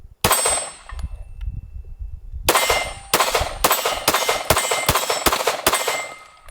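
A 6mm ARC rifle fires at a range, a sharp loud shot followed by a gap, then a quick string of several crisp reports with ringing steel-target clangs, no talk.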